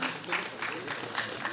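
An award show audience applauds a runner-up, bursts of clapping from a crowd heard under a voice speaking over the hall sound.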